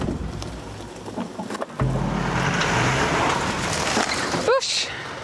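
A truck stuck on a muddy, impassable dirt track, its engine revving hard and droning steadily as the wheels spin, loud and close, with a brief squeal near the end.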